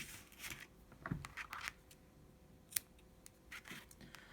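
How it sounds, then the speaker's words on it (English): Scissors snip through crochet yarn at the end of a round of a sunflower-motif scarf, a few quick close cuts with soft handling rustle between them. "So cut the yarn and make sure you fasten off securely."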